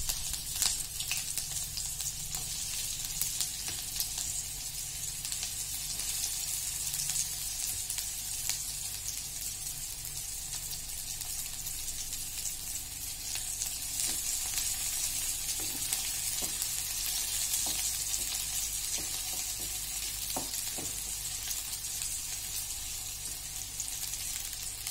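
Onions frying in a pan for a moong dal and green onion dish, a constant soft sizzle with scattered faint pops and light scraping, steady and moderately quiet for the whole stretch, without any talking.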